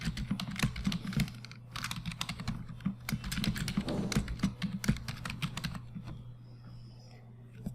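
Keystrokes on a computer keyboard as a password is entered, a quick irregular run of close, light clicks that thins out and stops near the end, with a steady low hum underneath.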